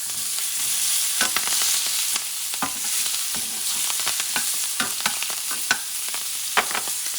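Green beans and peas fry in a paella pan for a goat meat paella, giving a steady close sizzle broken by scattered stirring scrapes and clicks, with no talking.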